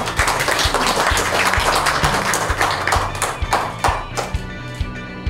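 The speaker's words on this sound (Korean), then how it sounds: "큰 박수 부탁드립니다" Audience applause at a charity board's general meeting and founding ceremony in Pyeongtaek, steady dense clapping filling the whole stretch with a continuous low rumble underneath.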